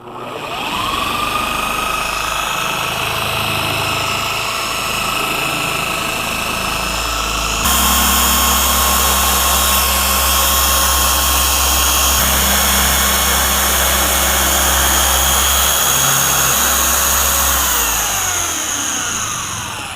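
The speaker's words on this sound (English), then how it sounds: "we'll bump it up to the high speed setting where we're actually doing our polishing" A car paint polisher whines steadily throughout, then steps up to its high-speed setting partway through with a louder, denser drone and a low rumble, close and continuous with no talking.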